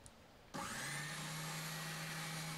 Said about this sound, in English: I guess it's the time for an oscillating spindle sander.